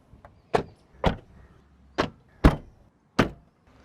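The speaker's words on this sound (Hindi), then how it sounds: "एंड डोर थर्ड भी आप यहाँ पे सुन सकते हैं।" Car doors on a Tata Nexon shut in a series of five solid, close thuds spaced about half a second to a second apart, with quiet pauses between them.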